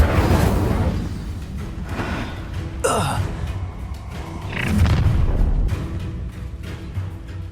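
An Incendio fire spell is cast in Hogwarts Legacy: a sharp sweeping whoosh flares up, then a second fiery burst follows over a low, rumbling game background.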